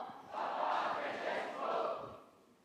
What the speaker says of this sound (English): I will just say a like a cheer. Papa Francesco! Papa Francesco!